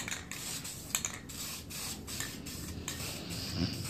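Spray painting the gear cover of a Sieg mini lathe with a second coat: a steady close aerosol hiss runs throughout with brief bursts and short pauses, no talking.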